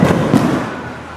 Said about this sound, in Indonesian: Dan main api. Kembang api maksudnya.